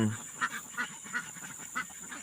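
Pet ducks quack in a handful of short, evenly spaced bursts, fairly close, over a steady background hiss.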